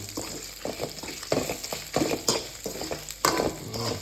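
Whole spices such as fennel, cumin, cinnamon, clove and cardamom fry in oil in a pan for a Kanyakumari chicken curry, with a spoon stirring in repeated scraping strokes over a steady close sizzle.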